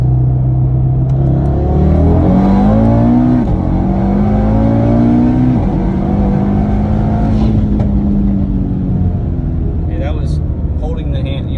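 A 2018 Audi TT RS accelerating hard, its engine note climbing in a loud, steady rumble with rising revs across the whole stretch, close by and continuous, with a voice briefly heard over it.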